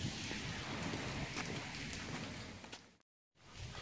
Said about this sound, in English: So it's raining like crazy right now.